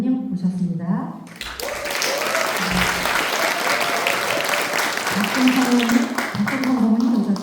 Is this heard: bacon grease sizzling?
no